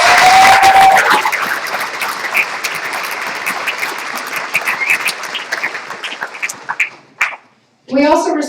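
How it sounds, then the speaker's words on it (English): An awards banquet audience applauds donors with a dense burst of clapping that thins out and fades over several seconds, followed by a brief pause and then a voice. "I think we ought to give the Tri-State Club a round of applause"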